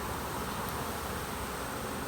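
Honey bees buzz steadily inside a single brood chamber hive. The hum is dense and constant, close and fairly loud, and no one speaks.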